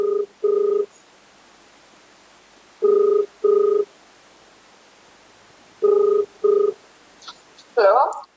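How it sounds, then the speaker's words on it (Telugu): Telephone ringback tone heard while calling a DSO officer: three paired rings spaced about three seconds apart, clear and moderately loud, followed by a brief burst at the end as the call connects. "చూడండి, డిఎస్ఓ మేడం కాల్ చేస్తున్నాం."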